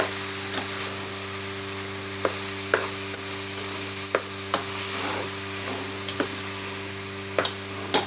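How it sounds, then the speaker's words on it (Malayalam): A spoon stirs mashed potato filling for aloo paratha in a pan: a steady soft scraping hiss with sporadic sharp clicks of utensil against metal, close and continuous, with no talking. "ഞാൻ ഈ പൊട്ടറ്റോനെ ഇതിനകത്തേക്ക് ആഡ് ചെയ്തു ഇനി നന്നായിട്ടൊന്ന് മിക്സ് ചെയ്ത് കൊടുക്കാം"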